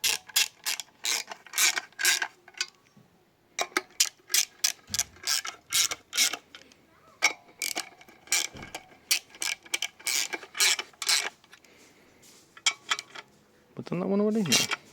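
Ratchet clicking in repeated quick bursts while tightening bolts in sequence on a forged Subaru EJ257 engine for an Impreza STi Prodrive build, close and loud, with brief pauses between runs and a little talk near the end.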